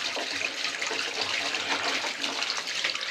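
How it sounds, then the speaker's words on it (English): Water drains from a hard-water-limed water heater tank after the heating element is pulled, a steady close rushing splash with no talk. "I'm already losing water."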